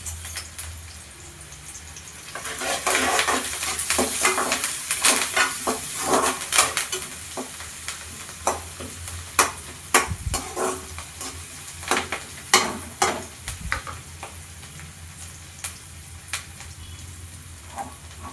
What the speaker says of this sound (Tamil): ஒரு கொத்து கருவேப்பிலை சேர்த்து நல்லா கலந்து விட்டுக்கலாம்